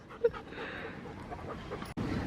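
A large, heavy dog pants in short, soft breaths close by, with a brief yelp-like sound near the start and a sudden louder rustle toward the end.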